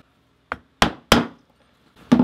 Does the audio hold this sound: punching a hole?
yes